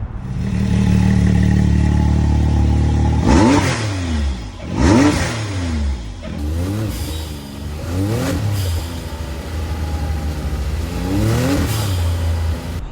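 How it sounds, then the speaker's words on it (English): Can-Am X3 turbo side-by-side with a blow-off valve kit, loud engine revving in repeated bursts, each throttle lift followed by a sharp whooshing release, close and aggressive over several seconds. "Check out these videos from a couple of our customers of their blow-off valves in action."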